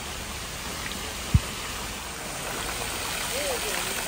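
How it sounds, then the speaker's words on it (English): A small waterfall in a botanical garden gives off a steady, soft wash of falling water, a constant broadband rush at moderate distance with no talk over it. "There's a little waterfall,"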